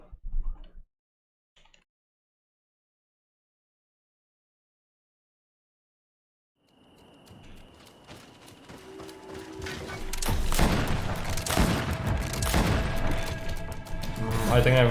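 Gunfire and combat noise in the video game Greedfall, starting after a long silence and building into loud, dense bursts of shots and clatter, with brief talk near the start.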